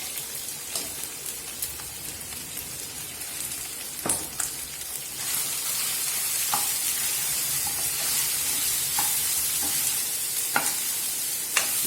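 Chicken for a dry pepper fry sizzles steadily in a pan as pepper and cumin are stirred in, with a spoon scraping and knocking every few seconds over a constant frying hiss and no talking.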